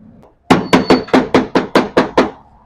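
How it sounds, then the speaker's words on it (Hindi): A plastic hammer taps a Honda Pridor motorcycle clutch cover into place with eight evenly spaced, close, sharp knocks, preceded by a brief moment of near silence. "प्लास्टिक वाली हथौड़ी के साथ हल्का सा आपने इसको चोट लगानी है"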